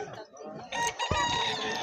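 A stag rooster at the Bocaue pet market crows once, loud and close, with market chatter and background noise around it.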